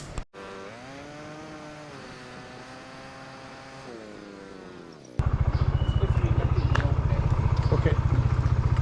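A motorcycle engine roars to life partway through, going from a quieter tonal hum to a loud, steady, close-up drone as the ride begins.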